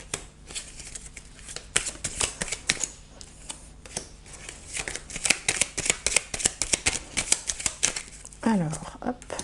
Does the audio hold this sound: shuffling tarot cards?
yes